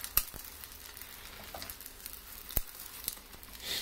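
An omelette frying in a skillet gives a steady soft sizzle and crackle as it is flipped with a silicone spatula, with a few sharp scraping ticks against the pan, close and moderately quiet.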